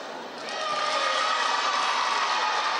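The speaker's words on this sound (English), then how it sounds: "with that, the crowd gets loud" A basketball crowd at a Tauihi women's game between Mainland Pouākai and Tokomanawa Queens erupts after a made free throw. Broadband cheering swells within the first second and then holds loud and steady.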